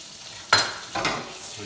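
Garlic drops into a hot pan for a Mexican shrimp dish, with a close burst of sizzling and a second, softer sizzle a moment later.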